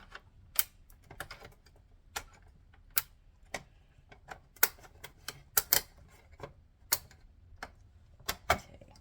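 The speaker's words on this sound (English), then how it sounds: "I'm going to go ahead and just use this mandolin slicer again for all of those." A mandolin slicer julienning garlic gives a string of sharp, dry clicks and snaps at irregular intervals, close up and moderately quiet, with nobody talking.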